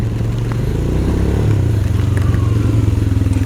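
A Royal Enfield Himalayan motorcycle on a monsoon mountain road near Kodaikanal is push-started, its engine chugging in a rough uneven pulse before cutting out, close and fairly loud.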